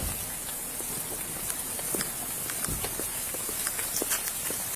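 Steady rain falling outdoors near a sidewalk under a tree during a roadside traffic stop, a constant close hiss with scattered sharp drips and taps throughout, no voices.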